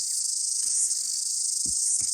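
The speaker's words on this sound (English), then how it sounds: "the old cicadas are chirping away in the background" Cicadas buzz in a constant, high, shimmering drone that fills the whole clip near a car park, with a couple of faint low thumps underneath.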